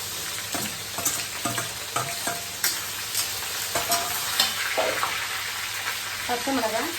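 Whole spices such as cinnamon and cloves crackle and sizzle in hot oil in a pan for mutton biryani, a steady close frying hiss with scattered pops and stirring scrapes, with a voice talking briefly near the end.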